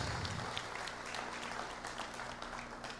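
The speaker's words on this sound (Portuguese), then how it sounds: "Palmas, queridas." Applause from a church congregation during a sermon, a steady wash of clapping at moderate level, with a low sustained tone underneath.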